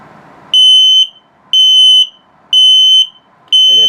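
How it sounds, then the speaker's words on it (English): An RV detector's low battery alarm sounds four loud, piercing electronic beeps at even intervals, each about half a second long, separated by near silence. "and now low battery alarm"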